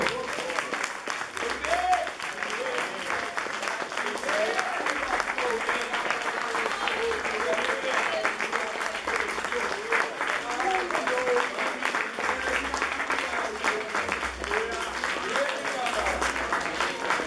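A church congregation at a fasting service claps together in sustained, lively applause, many hands beating steadily throughout while voices call out and talk over the clapping.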